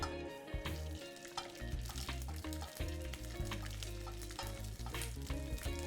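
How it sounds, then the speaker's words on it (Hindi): Cinnamon and whole spices sizzle and fry in hot oil in a pan while being stirred, a steady crackling hiss with scraping stir strokes, close and alone, for a Rajasthani moong dal. "और एक सिनेमन यानी कि दालचीनी। इसे भी एक हल्का सा स्टर दे देंगे।"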